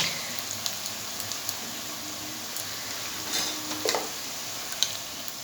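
Onion and garlic paste frying in a pan for masala chicken, a steady soft sizzle with occasional stirring scrapes and faint crackles, close and continuous with no talk.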